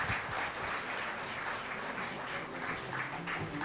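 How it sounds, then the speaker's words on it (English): Warm audience applause at the Devi Awards ceremony in Chennai honouring Dr. Tara Srinivasan, a psychiatrist: fairly quiet, even clapping from a seated crowd heard from a distance. "Maybe have a warm round of applause for her."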